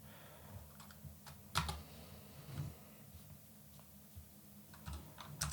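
Quiet, close keystrokes on a computer keyboard at a command line, irregular soft clicks in short bursts over a faint background hiss.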